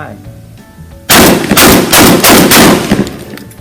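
Rapid gunfire from test-firing a Remington 11-87 shotgun and a CMMG .22 rifle, a loud burst of quick repeated shots after a brief quiet lead-in, close and dominant.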